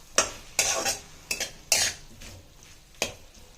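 Cabbage and potato pieces stirred in a pan, a spoon scraping and clattering against the metal in five or six distinct strokes, close and fairly loud, with a faint sizzle underneath.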